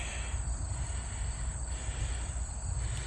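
A steady, low rumble of a distant freight train carrying JB Hunt containers rolls on without a break near Bristoe Station Battlefield, with a thin insect-like whine above it.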